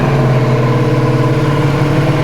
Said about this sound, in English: it's time for a cold start first